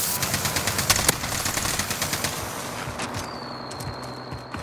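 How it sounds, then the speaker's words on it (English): Rapid bursts of automatic gunfire in an online shooter game, loud and continuous for several seconds with sharp overlapping shots, easing off toward the end as a steady high tone lingers. "They're just shooting at me."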